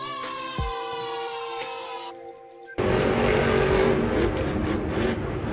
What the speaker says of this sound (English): This is the Kraken Monster Truck.